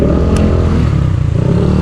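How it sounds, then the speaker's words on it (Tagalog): A motorcycle engine runs loud and close in a steady low rumble with a rough, revving edge, filling the short moment without any talk. "Ang kakaangas ng motor niya."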